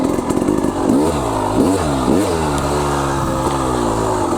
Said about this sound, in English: You're basically letting the clutch out and giving it gas at the exact right time.